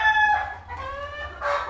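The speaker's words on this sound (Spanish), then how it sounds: "Un gallo muy hermoso" A handsome rooster crows loudly and close by, its harmonic call rising and breaking into a second burst near the end, with no talk over it.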